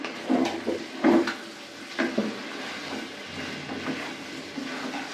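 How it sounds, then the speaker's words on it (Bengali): Rice-flour roti frying in a pan, a soft steady sizzle with a few louder clatters and scrapes of utensils against the pan, close by and with no talk. "রুটিটা এখন ভেজে নিচ্ছি"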